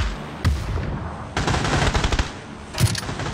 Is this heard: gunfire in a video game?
yes